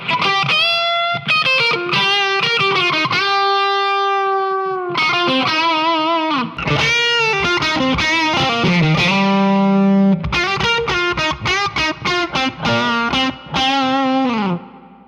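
Electric guitar through a Line 6 Helix amp modeler and Powercab speaker plays sustained, overdriven notes and chords, each ringing out into a spacious reverb tail, loud and continuous with brief gaps.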